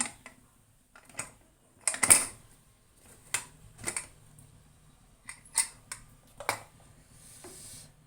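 A pressure cooker lid being taken off after cooling, with amaranth-leaf dal inside. Quiet, scattered metallic clicks and clunks come with pauses between them.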